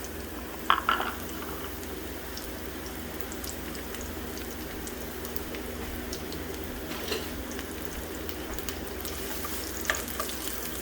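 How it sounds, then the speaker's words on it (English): Onions and shallots sauté in olive oil with a steady, close crackling sizzle throughout and a few brief clinks of stirring, with no talking. "we're going to saute some onions and some olive oil. To that we're going to add some shallots."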